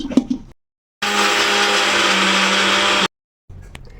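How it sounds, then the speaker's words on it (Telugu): A mixer grinder grinds coconut without water, whirring loudly and steadily for about two seconds, then stops, with brief clinks and handling noises before and after. "ఇప్పుడు మనం ఇది కొంచెం బరకగా అయ్యేదాకా ఒకసారి మిక్సీ పట్టేసుకుంటే"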